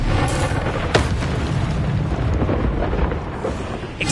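A Confringo blasting curse explodes in the video game Hogwarts Legacy: a heavy booming blast early on, then a rumbling, crackling roar that stays loud throughout.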